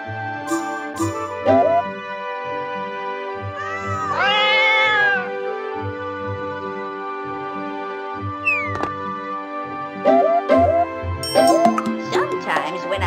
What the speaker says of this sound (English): Now help me rescue these cats.